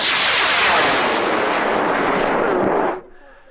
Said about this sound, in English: So I'm going to launch in 5, 4, 3, 2, 1.